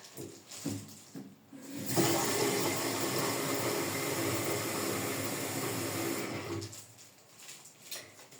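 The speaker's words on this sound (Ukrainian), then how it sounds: "тепер наливаємо дуже гарячу воду. Саму гарячу, яка є у вас." Very hot water pours in a continuous rushing stream for several seconds, fairly loud and close, then stops, with quiet shuffling before and after.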